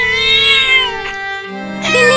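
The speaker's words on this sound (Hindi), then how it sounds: "बिल्ली मौसी रो मत" A cartoon cat cries and meows in drawn-out, wavering wails, loud and close, with a second rising cry at the end.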